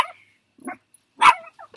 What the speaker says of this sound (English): Yes, I know you hear a dog out there.